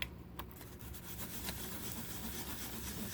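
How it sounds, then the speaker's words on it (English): Fine sandpaper rubbed on a small Aurora Tjet slot car part in a repeated back-and-forth scratchy rasp, close and soft, continuing steadily without talk. "the fine sandpaper, you know, won't leave any sandpaper marks the finer you go"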